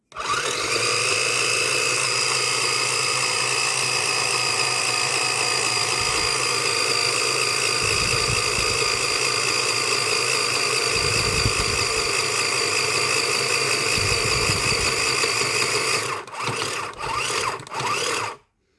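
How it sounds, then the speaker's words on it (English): A small battery-operated bobbin winder runs steadily as it fills a sewing bobbin, giving a loud, even motor whine with no talking. Near the end it cuts out and restarts briefly in short bursts before stopping. "So once it's started, I'm going to keep going till I fill up this bobbin."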